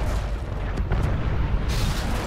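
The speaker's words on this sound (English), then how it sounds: "Explosions." Explosions in the video game Titanfall 2 during Titan combat, a dense roaring wash of booming blasts with a few sharper bursts, loud and continuous with no talking.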